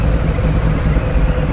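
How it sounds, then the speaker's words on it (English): Harley Davidson Softail Heritage engine idling around 900 RPM, a loud, close, steady low rumble that holds evenly throughout with no voices. "Looks like it idles around 900 RPMs roughly, but it can drop all the way to 7"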